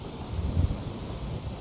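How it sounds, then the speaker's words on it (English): Steady outdoor wind buffets the microphone in a low, continuous rumbling rush with one slightly stronger gust midway, and no voices. "There's the wind."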